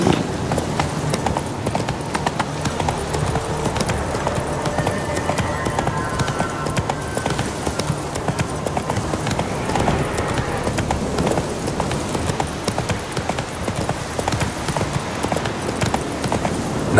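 Roach the horse galloping in The Witcher 3, a steady loud clip-clop of hooves drumming continuously with game ambience underneath, no talking.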